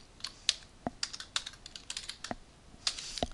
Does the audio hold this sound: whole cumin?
no